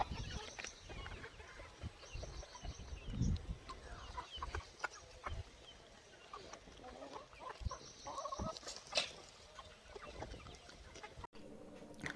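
Hens clucking in short, scattered calls with small birds chirping, steady outdoor background noise and no talking.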